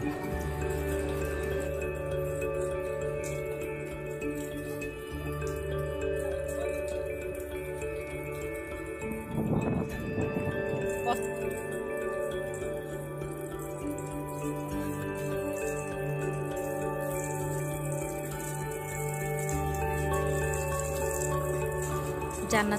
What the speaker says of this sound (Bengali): কৃত্রিম বৃষ্টি বানিয়ে খেলাধুলা করছে